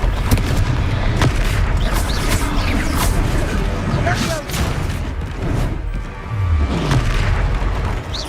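Confringo fire spell blasts in the game Hogwarts Legacy, loud booming explosions and crashing impacts layered over a dense, continuous rumble of combat, with voices shouting during the fight.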